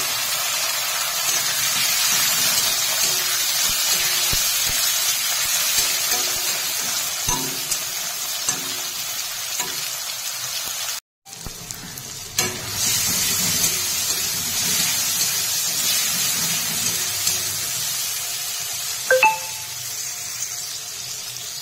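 Onions frying in a pan for a village-style crab curry, with a steady hiss of sizzling oil running throughout, broken by a brief gap of silence near the middle.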